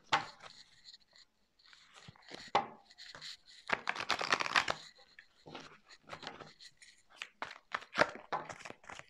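Tarot cards being shuffled close by, papery riffles and soft slapping bursts in irregular clusters with short quiet gaps between them.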